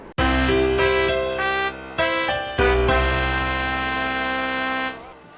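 A Dallara IR-05 IndyCar of the 2005 era in the iRacing game gives a loud, buzzing, high-revving engine whine that holds steady, breaks off briefly for a couple of quick gear shifts, then carries on before easing away.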